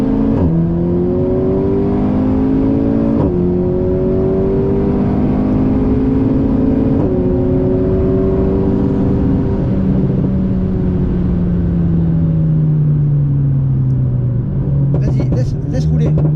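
Car accelerating on a driving circuit during a women's driving coaching session, engine note rising and falling steadily with gear changes throughout, close and loud, with an instructor talking over it.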